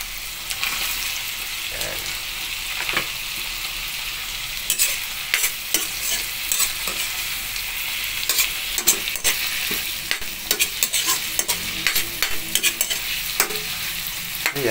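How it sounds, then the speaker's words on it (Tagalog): Garlic, onion, tomato and shrimp sauté in a hot pan, a steady loud sizzle broken by frequent scraping stirs and clacks of the utensil, close up and without speech. "So ginisa muna natin guys ang bawang sibuyas at kamatis, at susunod na nating ilagay ang hipon."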